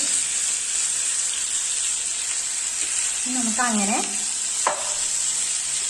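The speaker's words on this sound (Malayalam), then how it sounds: "നമുക്ക് ചിക്കൻ ഒന്ന് മറിച്ചിട്ട് കൊടുത്ത് നോക്കാം. ചിക്കൻ നെയ്യ് വരുന്നിട്ടുണ്ട്" Chicken tikka pieces fry in ghee in a pan with a steady, close sizzle and hiss. A spatula stirs and scrapes partway through, and a voice speaks briefly over the cooking.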